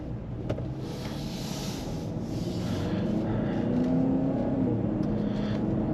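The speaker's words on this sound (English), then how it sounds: "I can hear the engine, but it's much more muted than the Edge." A 2021 Lincoln Nautilus 2.0-litre engine hums steadily and builds as it accelerates, a smooth, fairly muted rising drone with road noise and no voices.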